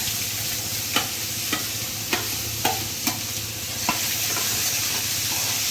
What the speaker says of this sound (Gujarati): આપણે આ જે બધા વેજીટેબલ લીધા છે એ બધા નાખી દઈશું